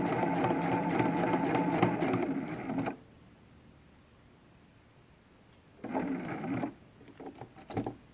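A sewing machine stitches a quilted throw pillow with a zipper closure, running loud and close for about three seconds, falling quiet, then making a shorter burst and a few faint clicks.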